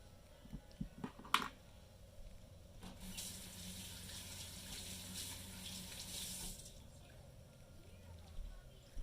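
Potatoes are rinsed under a running kitchen tap. A steady rush of water pours into the sink for several seconds, heard close, with clatter before it and faint background voices.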